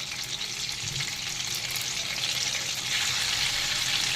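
Cardamom, cloves and cinnamon fry in a pan of oil and butter, producing a steady close sizzle with faint stirring and no talking.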